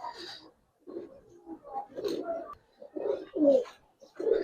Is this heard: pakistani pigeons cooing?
yes